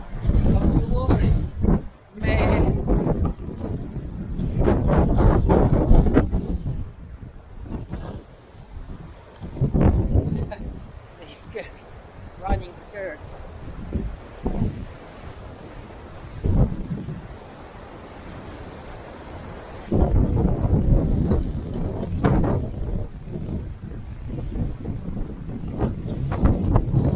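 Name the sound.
strong coastal wind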